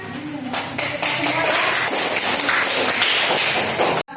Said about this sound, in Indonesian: Baiklah, tepuk tangan